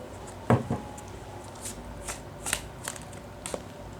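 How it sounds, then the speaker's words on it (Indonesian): Tarot cards shuffled by hand in a quiet room, giving a soft papery flutter followed by a string of light, scattered card slides and taps, faint and close, with no voice. "terutama ketika aku shuffle kartu ini"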